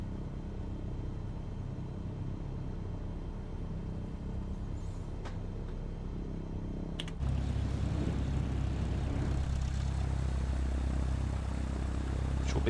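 Propeller airplane in Microsoft Flight Simulator 2020 taxiing for a back-taxi on runway 28, a steady low engine drone that steps up louder partway through as power increases, with no talk.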